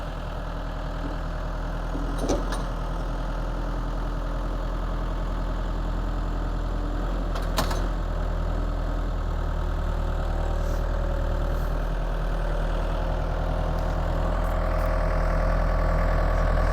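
A trenching machine built to cut a roughly 4-inch trench idles outside a sawmill shed, its engine holding a steady, continuous low rumble close by, with no talking.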